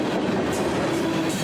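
Freight train led by CP 7023 rolling past a crossing beside the DuPont Circleville Works chemical plant in Circleville, Ohio, a steady close rumble of cars and wheels with no pauses and no voices.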